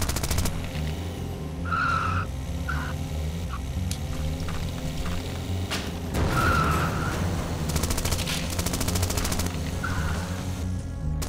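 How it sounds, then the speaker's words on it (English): Car-mounted machine guns in the Zombie Driver video game fire in short rattling bursts over a constant engine and skidding roar, with no talking. "Delicious, delicious machine guns."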